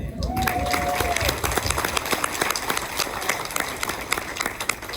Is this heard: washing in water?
no